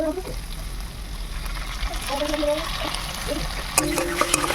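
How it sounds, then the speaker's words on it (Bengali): Water is poured into a pan of soy and tomato sauces with sautéed capsicum and onion for a crispy chilli baby corn dish, a steady close trickle and gurgle that ends with a few splashy clinks. "এর মধ্যে জল ঢেলে দেবো পরিমাণ মতো"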